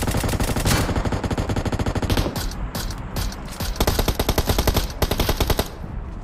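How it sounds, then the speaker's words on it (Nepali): Rapid automatic gunfire in PUBG Mobile, loud close bursts of rattling shots, a brief break, then another sustained burst, with no talk over it. "अगाडिको चारवटा गोली चाहिँ लागेन है त्यसलाई पछिको दुईटा गोली"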